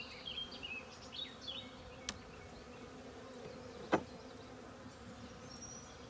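Steady insect buzzing from a feral honey bee swarm being transferred into a hive fills the background, with a few brief sharp clicks and faint higher chirps over the drone.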